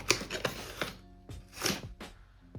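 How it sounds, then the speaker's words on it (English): Flour being spooned into a measuring cup while baking vegan double chocolate muffins, a series of soft scraping and tapping scoops in an irregular rhythm, close and fairly quiet. "We're just gonna spoon the flour right into the measuring cup"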